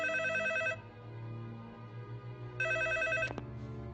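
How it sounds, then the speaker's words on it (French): An electronic telephone ringtone trills in two bursts inside a tense horror-film scene, loud and near over a low rumbling score, with a sharp tonal sting between them. "Alors pourquoi le téléphone sonne?"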